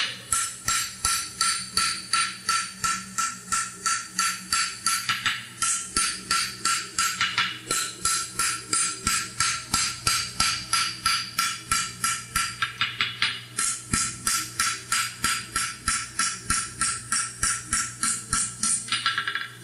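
A sidebone horseshoe is hammered flat at the forge with steady, rapid ringing hammer blows on an anvil, close and loud, in an even rhythm of many strikes with brief pauses, no talk.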